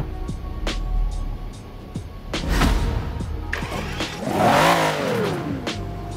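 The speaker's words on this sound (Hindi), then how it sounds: "और अभी हम लोग इसका इंजन शुरू करके देखेंगे।" A Mercedes G63 AMG G-Wagon engine starting and running, with a crank, a catch and a rising rev before settling into a steady idle, close by with no talk.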